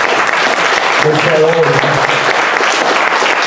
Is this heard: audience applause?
yes